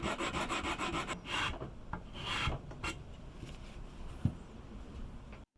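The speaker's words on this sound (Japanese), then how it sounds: "紙やすりでネックジョイント面の平面を出していきます" Sandpaper rubs across the wooden neck joint surface of a 60-year-old Teisco BS-101 bass, first in quick rhythmic back-and-forth strokes, then in slower, irregular scrapes, close up and alone.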